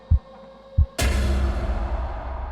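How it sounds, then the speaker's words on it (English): A heartbeat sound effect in an animated ghost story gives two low, deep thumps, then a sudden swelling hum takes over. "At once, Vernon's heartbeat raised."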